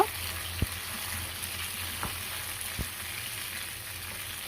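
Okra and chopped ripe tomato sauté in a pan for Kerala sambar, giving an even, continuous sizzle broken by a few sharp clicks as the spoon knocks the pan.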